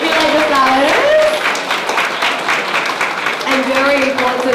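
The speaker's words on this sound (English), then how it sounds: "Can we have a big round of applause?" Audience applause at an art exhibition ceremony, a dense patter of clapping that runs steadily throughout with a voice speaking over it.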